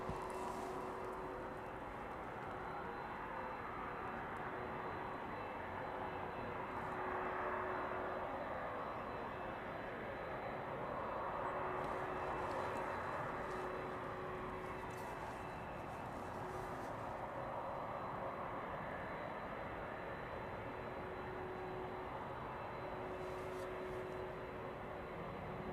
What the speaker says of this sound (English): Seven 767 making its way past now then